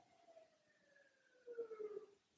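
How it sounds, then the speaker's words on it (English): An ambulance siren passes outside, its wailing tone faint and distant as it sweeps downward in pitch, swelling slightly louder near the end. "Oh, that's the ambulance."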